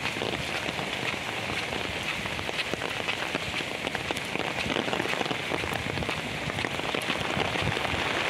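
Heavy rain from Typhoon Aghon pours down in a dense, constant hiss of drops drumming on surfaces. It is loud and unbroken throughout, with no voices.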